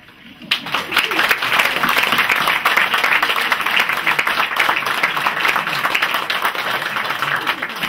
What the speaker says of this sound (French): je suis aussi très heureux qu'on l'applaudisse.